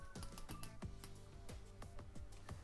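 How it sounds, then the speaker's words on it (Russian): Bezel of an Aragon Divemaster NH36A dive watch being turned, a run of about a dozen crisp, close clicks at a fairly even quick rhythm, heard alone with no talking. "Сейчас помолчу, щелчки послушайте."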